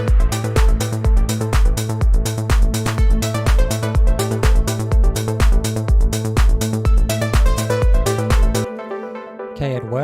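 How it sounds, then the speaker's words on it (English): Electronic synth lead melody transposed up an octave, riding over a steady pounding electronic beat in a produced song, loud and dense throughout before cutting to a brief rising sweep at the end. "like it sounds like this lead should go up higher, like maybe an octave higher"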